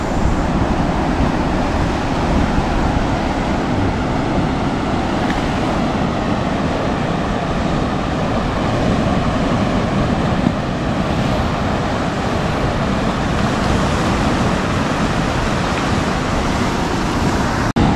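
Water rushes continuously at the Leuwikeris dam on the Citanduy River, a dense, steady roar with some wind buffeting the microphone and no pauses.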